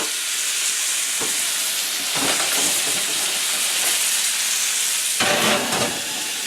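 A salmon fillet sears in a hot pan with a steady loud sizzle and hiss, swelling in a few sharp bursts as the fish settles against the metal.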